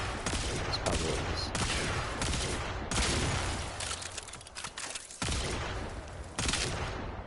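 Catchmoon gunfire in the video game Warframe lands as repeated loud, heavy blasts in clustered bursts separated by short pauses.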